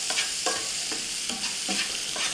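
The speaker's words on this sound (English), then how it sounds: "I wanna add a little bit of my shallots, a little bit of my garlic," Shallots and garlic are stirred into sizzling caramelized bacon in a pan, with a constant hiss and regular spatula scrapes about every half second.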